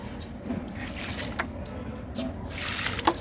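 Water is poured onto a dried-out potted plant, giving a soft, uneven trickle with a few brief splashes and patters as it soaks into the soil.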